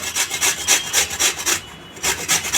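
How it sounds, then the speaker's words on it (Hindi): Carrot being grated by hand on a metal grater for a breakfast recipe, a steady rhythm of loud, close rasping strokes, about nine in quick succession with one brief pause. "इस पर तो फटाफट आसानी से गाजर घिसा जाता है।"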